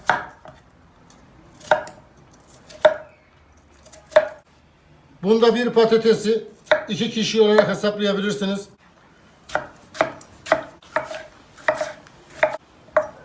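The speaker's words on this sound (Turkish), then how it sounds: "Patateslerimizde elma dilim doğrayacağız." Knife strokes cutting potatoes into wedges thud against a board at a slow, steady pace, pausing while a person speaks, then resuming with regular cuts.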